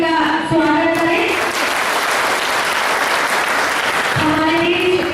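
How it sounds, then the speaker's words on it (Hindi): Loud, sustained applause welcomes a teacher onto the stage at a public gathering, a dense wash of clapping from a large crowd, with a voice speaking over the start and again as it closes. "इस शिक्षक के मंच पे जोरदार तालियों से हम इनका स्वागत करें"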